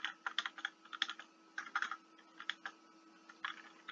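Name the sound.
typing a comment on a computer keyboard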